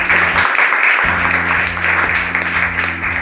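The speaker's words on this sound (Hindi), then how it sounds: "एक बार अपने लिए तालियां बजा दें।" Classroom of secondary-school students clapping together in a steady burst, close and loud, with a low hum running underneath.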